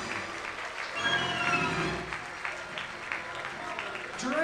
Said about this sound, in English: Please give a big applause for Jeremy Papa